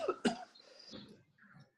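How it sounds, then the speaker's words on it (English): A couple of quick, soft coughs followed by a brief throaty exhale, fairly quiet and close. "There's a healthy cough"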